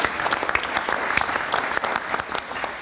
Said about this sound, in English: Please a round of applause for them too.